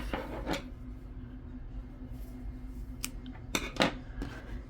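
Scissors snipping off a yarn end while crocheting a doll coat, a few sharp close cuts with quiet handling in between.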